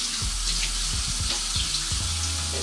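A dish is rinsed under a running kitchen tap, giving a loud, close, steady rush of water with splashing for a few seconds and no voices.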